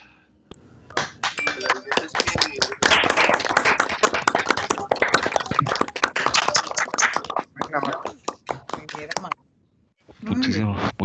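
An audience bursts into loud, sustained applause after a lecture at a conference on carbon-neutral certification, dense clapping filling several seconds before it thins out and a voice takes over at the end.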